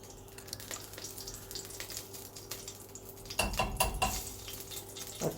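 Cow's ghee and oil go into a pan on a stove while cooking banana with coconut milk, giving close pan clatter and a brief burst of sizzling and stirring midway, with no talk.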